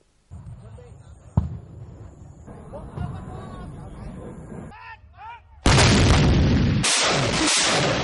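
Artillery and gunfire boom during a Vietnamese Military Region 7 live-fire exercise by an infantry battalion with tanks and artillery. A narrator speaks first, then heavy, loud, sustained blasts and bursts of fire dominate.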